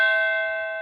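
Wireless doorbell sounding its factory-set chime, a single sustained bell-like tone with clear ringing harmonics that decays slowly and evenly, heard alone and close.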